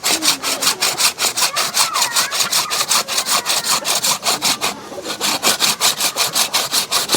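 A hand saw cuts through wood in fast, even back-and-forth strokes, loud and close, with a brief pause midway before the rhythmic rasping resumes.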